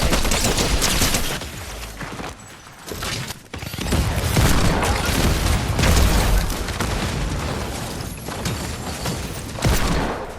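Gunfire in the video game Fortnite: dense, continuous volleys of shots and booming impacts fill the whole stretch, loud and close, with only brief dips before the firing resumes.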